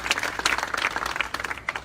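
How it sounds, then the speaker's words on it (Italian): A crowd at an Italian regional election campaign rally in Rosolina applauds, a short, lively burst of many hands clapping, fairly close and uneven. "facciamo un grande applauso"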